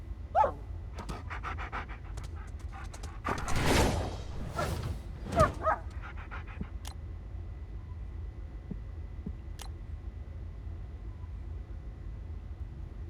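A dog companion in the looter-shooter game The First Descendant pants in quick rhythmic bursts, moderately close, with a couple of short yips or barks mixed in and a low hum beneath, and no one talking.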